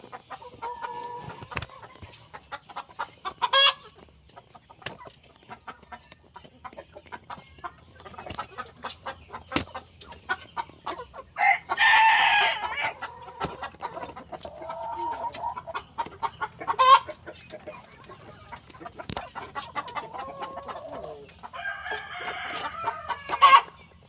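Fighting roosters kept in individual cages crow and cluck, several loud crows bursting out at intervals over scattered clucks and background rustle.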